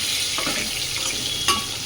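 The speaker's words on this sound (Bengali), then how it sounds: "তার উপরে এই যে টমেটোটাও দিয়ে দিলাম, দিয়ে টমেটোটা আমি একটু কষিয়ে নেব" Tomato sautéing in hot oil with panch phoron, dried red chillies and bay leaves, giving a steady close sizzle and a few soft stirring scrapes.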